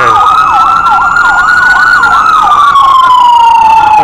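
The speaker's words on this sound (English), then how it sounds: "And it's a fire truck today." A loud, close fire truck siren on a Vancouver street wails continuously, its pitch sweeping up and down in a fast repeating yelp before settling into a long falling tone.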